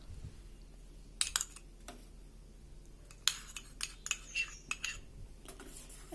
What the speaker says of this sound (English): And keep stirring it on slow flame